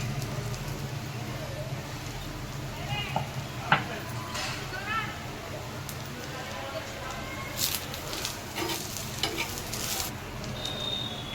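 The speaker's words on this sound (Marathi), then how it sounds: "आता आपण हे खोबरं आहे, खोबरं भाजून घेणार आहे." Coconut roasting in a pan, a low sizzle with scattered scraping and clinking of stirring, close and quiet, with voices talking in the background.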